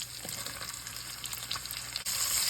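Onions frying in rendered bacon fat, a close, steady crackling sizzle with a few stirring clatters and a louder surge of hiss toward the end.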